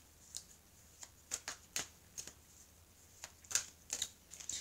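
Oracle cards shuffled by hand, a series of soft, quiet riffling flicks at irregular intervals, close by, with no speech.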